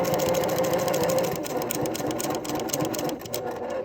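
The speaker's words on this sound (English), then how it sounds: "And just sew to the end." A domestic sewing machine stitches the seam of a small drawstring gift bag, running continuously at speed with a close, even mechanical chatter that slows and stops at the end.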